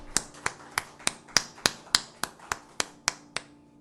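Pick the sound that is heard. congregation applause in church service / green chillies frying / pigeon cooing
congregation applause in church service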